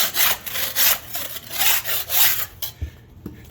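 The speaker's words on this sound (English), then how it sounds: "So I just go along scraping." A hand scraper rasps in rhythmic strokes across glued-down carpet and glue strips on a concrete floor, about half a dozen close, scratchy pushes followed by a couple of dull knocks.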